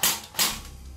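A Krytac FN Herstal P90 airsoft electric gun fires two sharp, close single shots in quick succession, each a brief mechanical snap with a short hiss.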